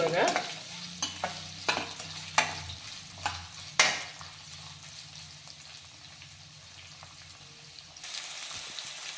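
Onions frying in oil for a bottle gourd curry, a steady close sizzle broken by a run of sharp utensil scrapes and taps early on, then settling into an even hiss; no talking.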